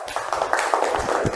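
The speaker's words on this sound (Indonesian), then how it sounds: "tepuk tangan untuk Ikma" Applause from a small classroom group for a student in an accounting lesson, a short burst of close, scattered hand claps.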